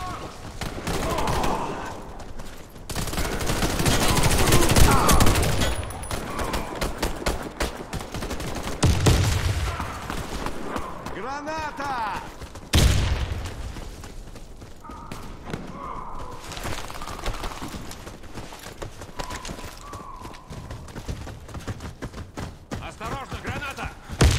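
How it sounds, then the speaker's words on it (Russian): Warface online PvP match: bursts of automatic gunfire and sharp shots rattle across the scene, with heavy thuds and an explosion-like boom, while players talk over the action. "Осторожно, граната!"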